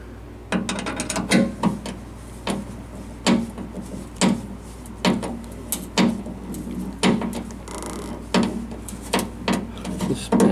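A tap cutting threads into a car door panel makes a steady series of ratcheting mechanical clicks and grinding turns, repeating roughly every half second, close and fairly loud.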